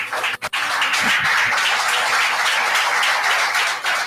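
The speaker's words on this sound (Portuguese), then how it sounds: "Dê um aplauso a ele." Congregation applauding during a Sunday morning communion service in a church, broad sustained clapping that stays loud and even throughout, with a brief break near the start.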